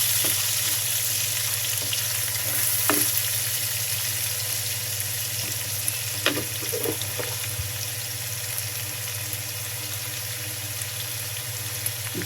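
Ginger, garlic and cumin paste sautéing in oil for prawn biryani, a continuous close sizzle with a low steady hum and a few scattered clicks of a spoon.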